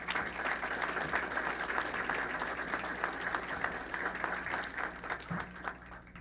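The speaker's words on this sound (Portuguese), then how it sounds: "a quem eu peço uma salva de palmas" Audience applause at an aviation industry debate opening, a full room clapping steadily for about six seconds, dense and even with crisp individual claps, fading slightly at the end, no speech.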